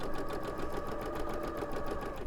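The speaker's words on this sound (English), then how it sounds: "So I have one little sewing machine." A small sewing machine runs steadily through free motion stitching, giving an even, fast mechanical whir and hum with a faint regular pulse throughout.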